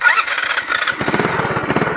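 Motorcycle electric starter cranking briefly, then the engine catching and running with a rapid, buzzing putter, loud and close, after repairs to a faulty starter circuit.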